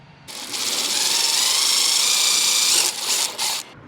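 A right-angle power drill whirs for about three seconds, a steady high mechanical whine driving a screw into a 1970 Plymouth Fury III, then stutters in two short bursts and stops.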